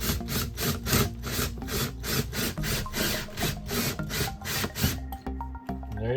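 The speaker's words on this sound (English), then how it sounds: "the manual says you have to drill out these 2 rivets" A loud, steady grinding whir with a rapid pulsing rhythm as a 3/32 drill bit bores out a rivet on an RV window frame, then it cuts off abruptly and rattles briefly.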